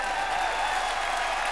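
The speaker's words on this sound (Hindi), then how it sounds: "नेहा कक्कड़ के लिए जोरदार तालियां।" Studio audience at a TV comedy show claps in a brief, steady burst of applause, a soft, even wash of clapping with no pauses.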